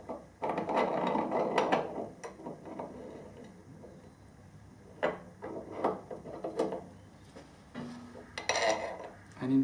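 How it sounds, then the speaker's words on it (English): Metal parts clink and scrape as a bicycle steering stem is slid up through the frame's head tube, a close series of irregular rattles, knocks and small metallic ticks with quiet pauses between them. "So we'll carefully insert the steering stem up through the bottom."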